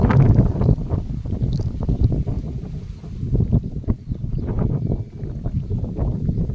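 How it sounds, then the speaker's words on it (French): Strong wind from an arcus storm buffets the microphone with continuous low rumbling gusts, loud and unbroken throughout. "Le vent."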